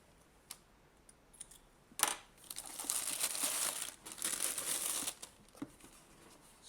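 Plastic packaging of a Sennheiser headset stand being unwrapped, a quiet close crinkling that swells into several seconds of continuous rustling before trailing off into a few scattered crackles.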